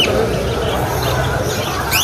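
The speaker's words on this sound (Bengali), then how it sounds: "বিভিন্ন ধরনের পাখি কবুতর এখানে ওঠানো হয়" Scattered bird chirps and brief tweets rise over a steady, noisy background of a busy open-air bird and pigeon market crowd.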